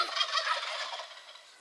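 Wild turkeys gobble during a spring hunt, a loud, rapid rattling call close by that fades over a second or two, with no talk over it.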